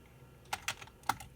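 Commands typed on a computer keyboard at a Windows 98 PC running MS-DOS, a few light key clicks spread over a second and a half, close and quiet with nothing else around them.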